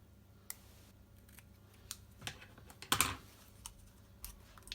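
Scissors snipping an 8mm strip of basic black cardstock in a card-making setup, a few quiet, sparse cuts with one louder crisp snip near the middle, no talking.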